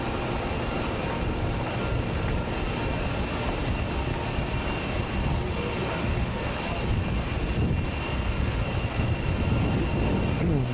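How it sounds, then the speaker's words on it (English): A large climate-control fan in a pressurized printing facility produces a loud, steady broadband roar that fills the whole stretch evenly, with faint talk beneath it. "You'll notice a big fan behind me here."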